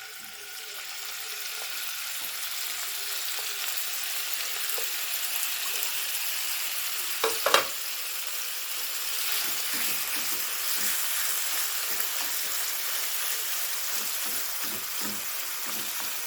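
Meat for plov fries in hot oil in a heated pan, giving a steady, even sizzle close by, with a brief clatter midway and soft stirring sounds toward the end.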